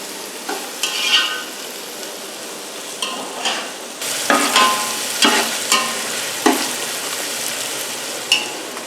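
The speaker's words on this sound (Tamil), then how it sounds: "இஞ்சி பேஸ்ட்டையும் பூண்டு பேஸ்ட்டையும் நம்ம இப்போ வெங்காயத்தில் ஆட் பண்ணியாச்சு. இதை நல்லா வதக்கணும்." Onions sauté in a pan with ginger and garlic paste for chicken biryani, a steady frying sizzle broken by repeated stirring scrapes and clinks of a utensil against the pan.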